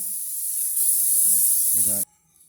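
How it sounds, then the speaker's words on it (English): A steady hiss of cooking oil spray onto the bottom of a bowl lasts about two seconds close by, with a brief clatter just before it stops. "I'm going to take and spray the bottom of this"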